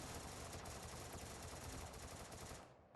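Sustained rapid gunfire in the mobile battle-royale game Free Fire, a dense continuous burst that stays steady and fairly loud for several seconds before cutting off abruptly near the end, with no voices over it.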